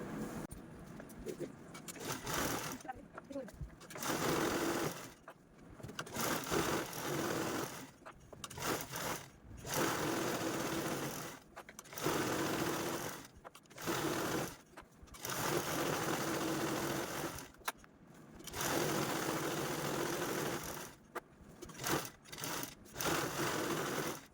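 A sewing machine quilts diagonal stitches on a fabric bag made of lining, sacking and main fabric, a steady loud whirring run broken by short pauses, going on for the whole stretch.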